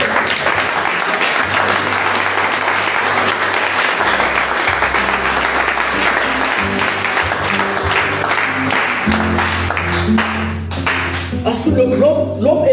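A church congregation applauds loudly and continuously, dense clapping nearby, with rhythmic bass tones and some voices mixed in toward the end.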